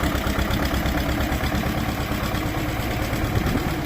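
A T25 tractor engine runs steadily at idle, a continuous low mechanical rumble holding at an even level throughout, close by with no voices.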